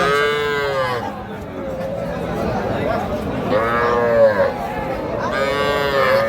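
Young heifers and other cattle at a livestock market in Comilla and Chandpur give long, close, loud moos at the start, middle and end, over a continuous background of crowd chatter.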